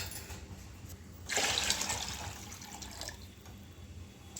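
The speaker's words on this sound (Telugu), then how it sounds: "వాటర్ పోస్తున్నామండి దీంట్లో బగారన్నానికి." Water poured into a cooking pot of spiced bagara rice, a short splashing pour that swells suddenly, then fades into a quieter trickle amid faint kitchen background.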